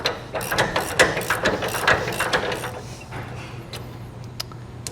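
A hand ratchet works at a badly rusted U-bolt nut on a trailer leaf spring, giving rapid clicking pawl strokes that are strongest in the first half and then ease off.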